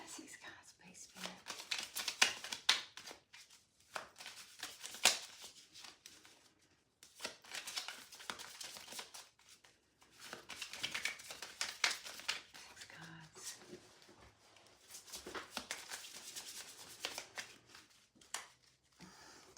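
Tarot cards shuffled during a relationship reading, with repeated bursts of close riffling and flicking that come in clusters separated by short pauses, and soft talking or whispering between some of the bursts.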